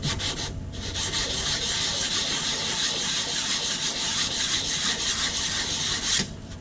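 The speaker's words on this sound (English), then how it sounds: "So we'll use a good flat sanding block." Continuous rhythmic rasping of a flat sanding block rubbed back and forth over a hard epoxy composite fin, close and steady, stopping abruptly near the end.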